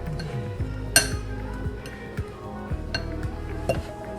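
A utensil stirs buttermilk chicken batter in a bowl, making light clinks and taps against the bowl in an irregular rhythm, with one sharper clink near the start.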